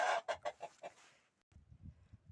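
Several hens cluck close by in a quick series of short calls, followed by softer, lower clucking after a brief pause.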